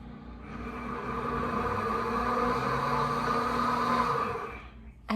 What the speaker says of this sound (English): Time to turn apples into applesauce in our blender.